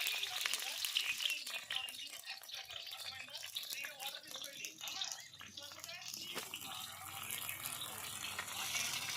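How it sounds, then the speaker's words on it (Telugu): Green chillies, onions and curry leaves frying in oil in a kadai over a wood-fired stove give a steady, close sizzle with rattling stirring, while a voice talks over it. "తరిగిన పచ్చిమిర్చి ఉల్లిపాయలు కరివేపాకు వేసి బాగా కలుపుకోవాలి"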